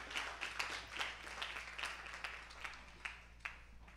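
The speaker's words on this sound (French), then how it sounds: "un bel applaudissement pendant le chita" Clapping from a congregation during a worship service, a steady patter of many hands with a few sharper claps standing out toward the end.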